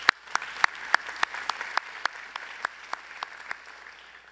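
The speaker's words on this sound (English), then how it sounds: "You can applaud for that." Sparse, irregular clapping from a small group at a college commencement ceremony, distinct individual claps thinning out over a few seconds.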